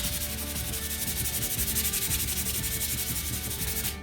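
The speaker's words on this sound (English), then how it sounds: "it's rough, so I'm going to give it a sand" A laser-cut wooden kit piece is hand sanded in quick, steady back-and-forth strokes, a close, continuous dry scratching rasp that runs unbroken throughout with no talking.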